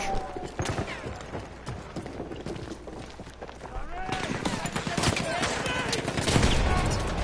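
Rapid gunfire and explosive bursts from a five-on-five team deathmatch in the shooter game Task Force 77, dense and continuous with a louder blast near the end, while a commentator talks over the action throughout.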